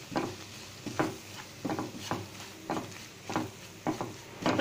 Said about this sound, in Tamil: இப்போ பாருங்க, நம்ம மாவு அந்த நெய்லேயே கொஞ்சம் வறுத்தாச்சு